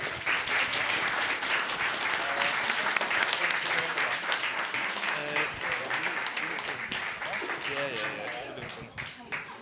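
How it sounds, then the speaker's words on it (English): Guests applaud a bride and groom on a wedding dance floor, a steady dense wash of clapping sustained for about nine seconds, with voices talking and calling out underneath and the clapping thinning at the end. "Can we have a round of applause, please?"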